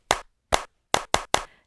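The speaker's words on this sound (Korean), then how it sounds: "가족을 바라보면서 함께 칭찬 박수를 쳐볼까요?" Children at a kindergarten church Bible school clap in short, sharp bursts: five crisp claps close by, the last three coming quickly together, with silence between.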